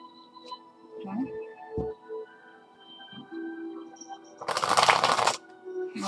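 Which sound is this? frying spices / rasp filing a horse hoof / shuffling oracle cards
shuffling oracle cards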